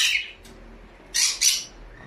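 A cockatiel squawks in a few sharp, bright calls: one at the start, then two loud squawks close together near the end, with quiet room tone between.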